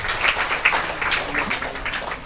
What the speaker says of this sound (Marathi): तुम्ही सरांनी जोरात टाळ्या वाजून प्रभू येशूला धन्यवाद द्या